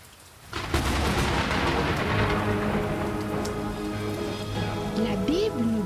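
Heavy rain starts abruptly after a brief quiet moment, becoming a dense, steady downpour on surfaces with a low rumble of distant thunder underneath.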